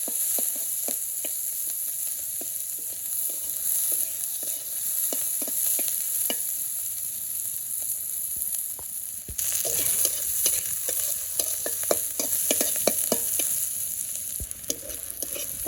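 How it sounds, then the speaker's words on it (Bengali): Chopped onions and green chillies fry in a pan with a continuous hissing sizzle up close, under steady clicks and taps of stirring that grow busier partway through. "এখন পেঁয়াজ কাঁচামরিচ কাটা ছিল দিয়ে দিই, দিয়ে পেঁয়াজগুলো একটু ভেজে নিব।"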